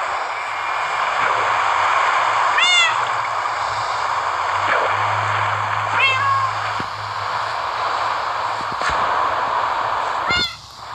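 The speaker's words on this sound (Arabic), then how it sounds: "القطة الصغيرة." A small cat gives a few short, high meows spaced several seconds apart over a continuous background of flowing water on a farm.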